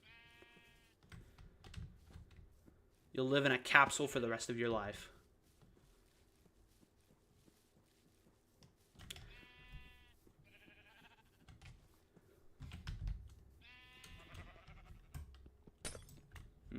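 Sheep in the video game Minecraft bleat in brief cries between stretches of talk, with a burst of loud noise early on and keyboard-like tapping underneath.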